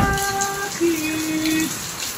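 Steady rain pours down on a wet night by the shore, a dense constant hiss of drops on surfaces, with faint tonal sounds drifting through in the background.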